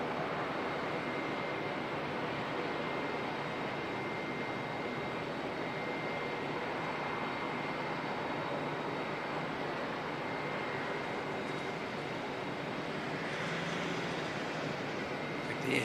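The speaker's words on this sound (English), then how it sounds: "I think the Air Chatham's ATR is heading off down to Wanganui." Air Chathams ATR turboprop taxiing out at Auckland Airport, a steady broad engine drone held at a moderate distance for the whole stretch, with faint voices in the background.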